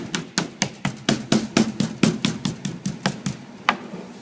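Meat being pounded flat for braciole with a mallet, a steady run of about fifteen sharp, close thuds in an even rhythm, each with a quick decay.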